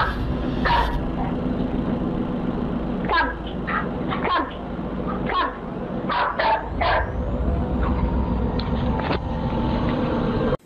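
A dog barks in short repeated bursts at close range over steady low background noise, with a few sharp clusters spread across the stretch.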